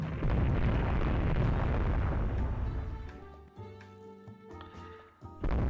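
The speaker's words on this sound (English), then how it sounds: "can use those big 18-inch guns to good effect" The 18-inch guns of a battleship fire in the naval strategy game Rule the Waves 3 with a loud, heavy rumbling blast that rolls on for a few seconds and fades, followed by soft tonal game sounds and a final sharp burst.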